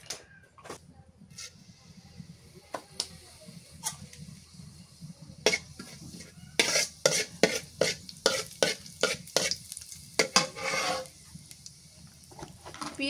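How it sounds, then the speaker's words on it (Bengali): Prawns stir-fried with black cumin seeds in a pan, starting with a quiet sizzle and sparse scrapes, then building into a quick run of loud spatula strikes and scraping against the pan, close by. "এবার চিংড়ি মাছ ভুনা করি। কটা কালো জিরে দিয়ে দিই।"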